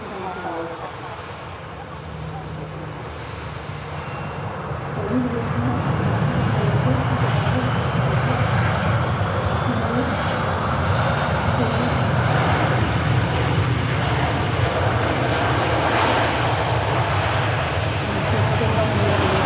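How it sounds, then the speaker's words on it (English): A long aircraft passes at Manchester Airport, its engine roar swelling to a loud, steady broadband rush, with faint voices and wind in the background. "Such a long aircraft"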